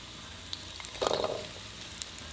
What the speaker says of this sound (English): Stir fry until aromatic, 2 minutes.